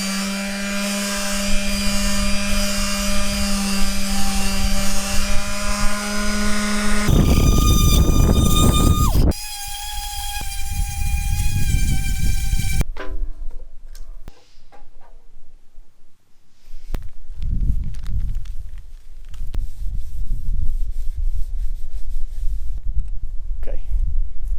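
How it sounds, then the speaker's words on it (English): A power sander grinds down an Outback BBQ during a restoration, a loud, continuous buzzing roar that shifts in tone as it moves over different surfaces, with brief pauses and changes in pitch along the way. "So I'm just going to give it a go with this sander first."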